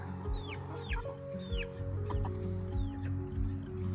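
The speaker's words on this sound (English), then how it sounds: "We have the chicks in this chicken tractor to introduce them to the flock." Chickens clucking and calling on a farm near a chicken tractor holding chicks, repeated close clucks and squawks over a steady low hum, no talking.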